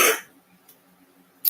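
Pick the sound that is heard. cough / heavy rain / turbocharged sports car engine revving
cough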